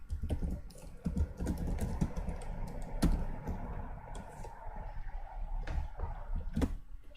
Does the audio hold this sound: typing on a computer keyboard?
yes